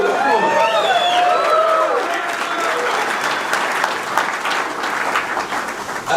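Steady applause with some cheering fills the room at a press conference at CU Boulder, a speaking voice heard at the start before the sustained clapping gradually thins out.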